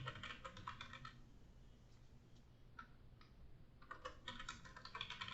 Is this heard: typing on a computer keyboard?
yes